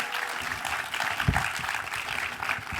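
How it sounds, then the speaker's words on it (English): An audience at a documentary film Q&A claps in a steady, dense patter of applause that carries on evenly from start to finish. "give him a round of applause"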